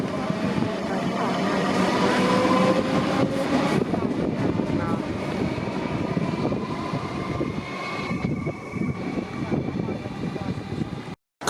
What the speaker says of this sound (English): Comeng's departing platform 3.